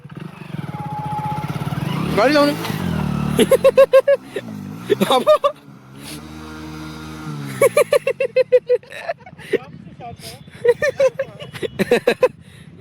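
A motorcycle rides in and revs in short, uneven bursts close by, its engine note rising and falling with loud, choppy throttle blips, while people talk over and between the revs.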